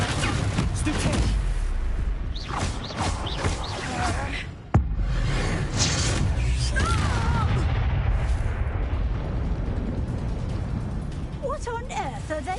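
Confringo spell blasts in the video game Hogwarts Legacy, with repeated booming explosions and crackling impacts over loud, continuous combat noise and shouted voices, and one sharp crack near the middle.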